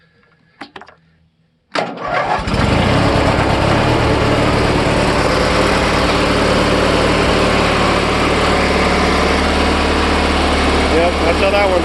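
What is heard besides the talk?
cold start and idle of Deutz-Allis or Simplicity lawn tractor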